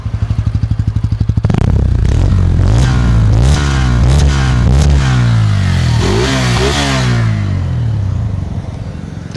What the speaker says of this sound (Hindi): अब मैं आपको इस न्यू 4 वैल्व इंजन की एग्जॉस्ट साउंड भी चेक करा देता हूं